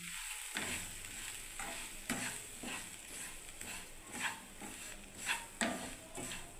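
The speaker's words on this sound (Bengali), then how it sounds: "এবার আমি নাড়তে থাকবো বন্ধুরা।" Semolina upma being stirred in a pan with gagor beans, a spoon scraping repeatedly through the grains against a soft, steady sizzle, with regular strokes about once a second, close and fairly quiet.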